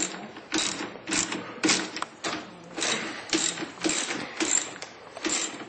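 A ratchet wrench tightens 10 mm bolts on a go-kart, giving repeated bursts of fast clicking with short pauses between strokes. It sounds close and steady, with no talking.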